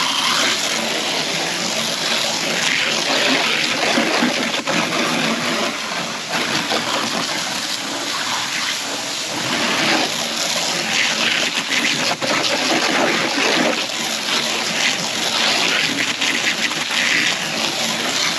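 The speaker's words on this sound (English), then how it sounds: "So this is just a regular standard garden hose." Water sprays hard and steadily from a standard garden hose outdoors, a dense continuous hiss and splatter that stays loud and unbroken throughout.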